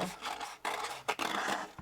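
Scissors snip out a small paper mushroom shape for a handmade woodland-critter card, giving short close scraping cuts in three bursts separated by brief pauses.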